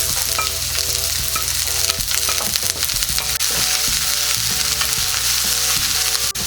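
Garlic and onion sautéing in a pan as a spoon stirs them for ginataang ulang, with a loud, steady sizzle, repeated scraping strokes and a faint tonal hum in the background, no talking.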